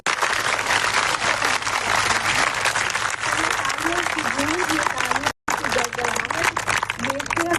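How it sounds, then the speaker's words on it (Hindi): Students at a women's college in Gandhi Nagar, Jammu, applaud a visiting mayor with loud, sustained clapping that fills the whole clip, broken by one brief dropout, while a voice talks faintly underneath. "बहुत भर के ताली बजाएंगे सर के लिए।"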